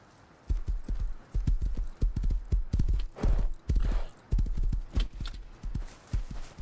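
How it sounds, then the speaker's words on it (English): Horse hooves clip-clop at a brisk, steady walking pace in the video game Rust, loud and close, with no talking over them. "Horse over here."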